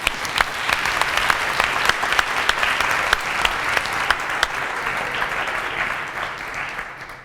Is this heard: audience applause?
yes